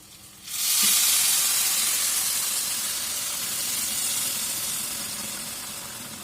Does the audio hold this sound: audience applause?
no